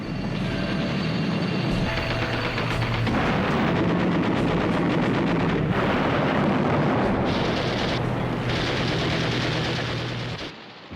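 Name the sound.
bomb exploding on an aircraft carrier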